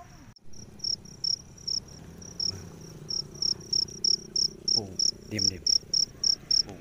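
Fighting crickets chirp in short, regular high-pitched pulses, growing more frequent, over a low background hum; a voice briefly speaks once.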